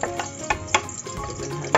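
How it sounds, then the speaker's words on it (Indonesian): Onions sautéed in hot oil for a tongkol fish curry, a bright steady sizzle with a few sharp spatula scrapes stirring them, close and clear. "Kita masukkan bawang-bawang ini, tumis."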